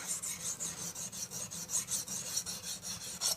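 An axe edge is sharpened on a KME sharpening system, and the stone rasps across the steel in quick, even back-and-forth strokes, about four per second, up close and steady with no talk.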